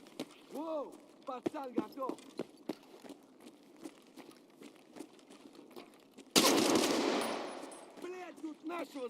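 A single loud gunshot blast with a long decaying echo bursts out in a shooter video game, surrounded by close talking and scattered small clicks and footsteps.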